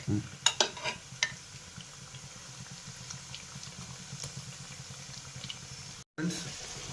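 Chopped ivy gourd pieces frying in hot oil, a steady soft sizzle running throughout with a few sharp crackles and utensil clinks near the start and a brief cutoff near the end.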